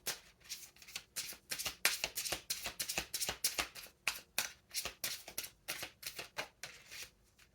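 A deck of tarot cards is riffled and shuffled close by in quick, crisp bursts of papery flicks, repeating steadily and evenly with no talking.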